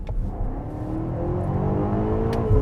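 A 2020 BMW X5M Competition engine runs with its sound enhancement switched off, giving a steady, fairly subdued rising drone with a faint whir on top and no voices.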